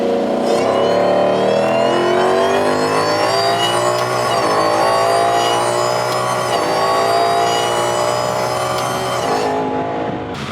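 A Roush-kitted car engine, fitted with a Max Cooling kit, revs hard and steadily for about ten seconds during a boost data pull, a loud continuous close-up roar with rising pitch and no talking.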